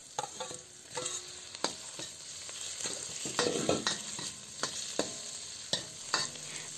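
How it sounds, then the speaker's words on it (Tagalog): Peeled shrimp sautéing with onion and garlic in a pan for sotanghon guisado: a steady close sizzle broken by repeated sharp scrapes and clinks of stirring, with no talking. "Gisain lang natin yan hanggang sa maging light orange na ang color ng hipon."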